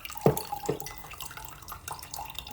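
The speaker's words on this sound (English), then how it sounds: "So you can watch me pour coffee very slowly" Coffee poured slowly into a cup, a soft liquid trickle with a couple of brief splashy onsets, close and quiet, with no talking.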